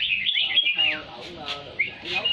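Red-whiskered bulbuls kept loose around a house in Gia Lai chirp in bright, rapid, whistled phrases, fairly close and steady throughout, with some low background noise beneath.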